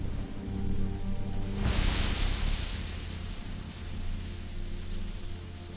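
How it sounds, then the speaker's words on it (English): Gentle rain falls on a forest in an animated story, a soft broadband hiss that swells briefly then settles into a steady wash over a low background hum. "Gentle rain began to fall on the forest."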